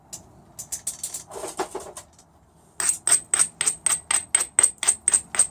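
Flintknapping: sharp clicking strikes of stone on stone as flakes come off, first an irregular cluster of taps, then a faster even series of bright, ringing hits close by.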